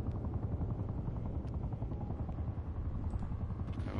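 Attack helicopter in Call of Duty Cold War, a loud, steady rotor thump and engine roar filling the whole stretch, with faint bursts of gunfire and no speech.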